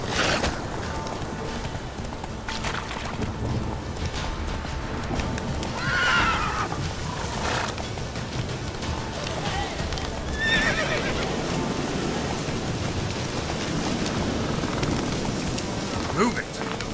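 Roach, Geralt's horse in The Witcher 3, whinnies and snorts over clip-clopping hooves, with steady rain and a low rumble of thunder behind, heard up close with no talk.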